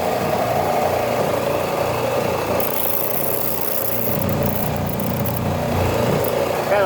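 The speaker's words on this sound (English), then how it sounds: "So I'll cut the sander on." A power sander with a hard wheel working on a gun stock, giving a loud, steady close-up whir that holds constant throughout, with a hissing grind rising partway through.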